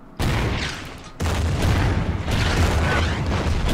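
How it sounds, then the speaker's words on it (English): Artillery fire in the Order of Battle strategy game set on Burma's Irrawaddy River, a few heavy booming explosions in quick succession, loud and rumbling, each blast trailing into the next. "Yeah, we can use the artillery"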